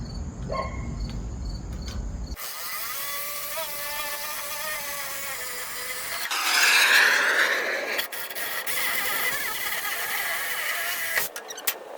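A saw fitted with a metal-cutting blade bites into the metal of a 1969 C20 dump truck, a loud rasping, whining cut that starts abruptly after a short low rumble, runs steadily and rises in intensity near the middle before stopping.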